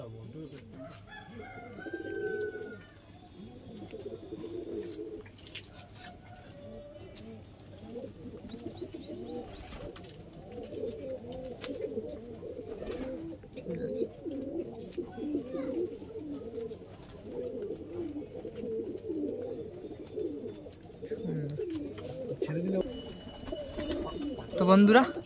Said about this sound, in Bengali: একদম বিগ বিগ পায়রা, খুবই সুন্দর